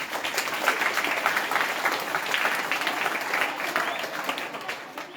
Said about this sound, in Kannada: ಮಯಾಂಕನ ಆನ್ಸರಿಗೆ ಮೊದಲೇ ಚಪ್ಪಾಳೆ.